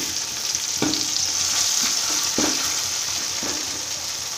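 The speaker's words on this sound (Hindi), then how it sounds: "और इसमें हम थोड़ी देर अब टमाटो को फ्राई होने के लिए छोड़ेंगे।" Tomatoes fry in a pan with a dense, steady sizzle, broken by three distinct stirring scrapes at regular intervals.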